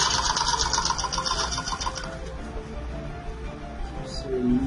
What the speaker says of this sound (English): And you keep sewing.